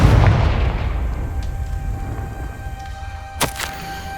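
Confringo blasting spell in the Hogwarts Legacy game during a boss fight, a single loud booming explosion at the start that decays into rumble, followed by a smaller sharp pop.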